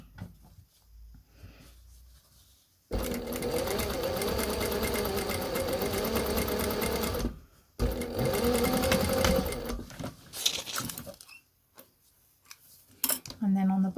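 Sewing machine stitching together the pieces of a face covering that has a filter pocket. It runs in two long steady bursts with a short pause between them, then gives a few brief stops and starts, with quiet gaps before and after.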